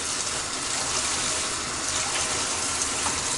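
Water runs steadily from a kitchen tap into a quarter-cup measure, a continuous close hissing gush with no pauses.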